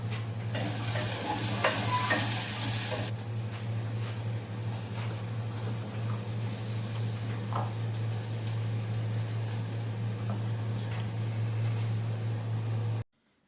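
Onions frying in a home kitchen pan while being stirred, a steady sizzle with scraping strokes throughout, close and fairly loud, with a constant low hum beneath, ending abruptly.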